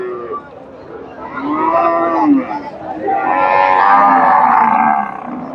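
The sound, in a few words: cow mooing at a cattle market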